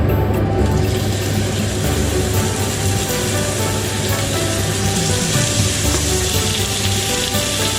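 Pork loin pan-frying in oil in a hot wok gives a loud, close, continuous sizzle that holds steady without breaks.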